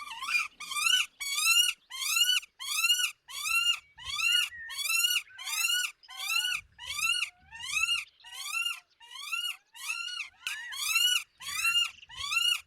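A female goshawk calls out repeatedly while feeding on prey brought by the male, somewhere in Spain: a steady series of loud, harsh, rising wailing cries, about one to two per second, close and clear with no other sound.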